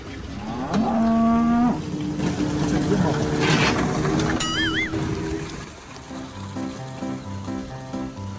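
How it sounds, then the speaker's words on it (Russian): Cattle standing in an amusement park moo, with a long low moo up close. A child and an adult talk around the moos, and a musical toy or ride tune plays toward the end. "Ой, какие коровки стоят."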